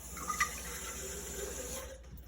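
Forty grams of water pours into a bowl on a kitchen scale to rehydrate dried sourdough starter flakes, a steady close splashing stream that runs for about two seconds and then stops, with no voices.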